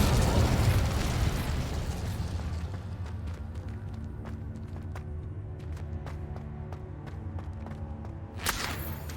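The Incendio fire spell cast in Hogwarts Legacy, a loud fiery burst that fades into crackling flames and scattered small pops, with a brief flare near the end.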